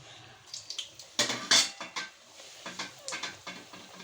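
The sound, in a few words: fried samosas being taken out and put into a dish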